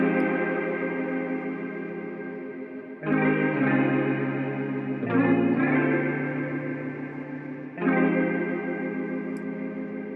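Baby Audio Crystalline reverb plugin processing a sustained synth pad, lush shimmering chord tones changing every few seconds with a smooth wet tail, played alone and fairly loud.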